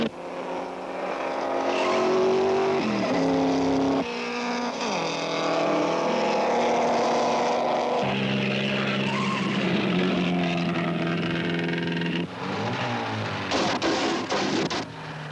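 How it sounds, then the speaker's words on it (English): Vintage Sunbeam and Alfa race cars in a long-distance road race, with loud, continuous engine roar and shifting pitch as machines pass close by, one engine misfiring, and no one speaking. "Then the Sunbeam starts to misfire mysteriously, and Bordino takes the lead"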